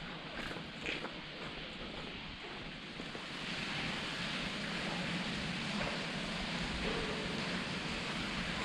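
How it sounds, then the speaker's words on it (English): Loud running water roars steadily inside an old railway tunnel on the former LSWR Tavistock line, a continuous rushing wash with faint footsteps and no talk. "Really is the sound of water here. Very, very loud."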